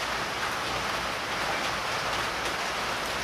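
Rain falls hard and evenly through hot, humid weather, a thick constant wash of drops with nothing else over it.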